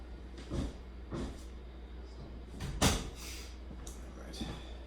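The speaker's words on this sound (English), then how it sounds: "there's an ongoing renovation. I think I've mentioned it before, but they're knocking next door. Banging, knocking." Renovation work next door produces a series of irregular, muffled bangs and knocks, about half a dozen dull thuds spaced a second or so apart, one noticeably louder, over a low background hum.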